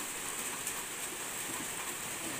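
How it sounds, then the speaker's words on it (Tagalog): Rain pouring down around a house under repair in the Philippines, a steady broad hiss with soft patter, continuous and even throughout, no voices. "Natuloy din po yung pag-ulan."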